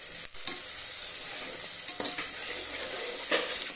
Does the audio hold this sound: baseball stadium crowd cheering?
no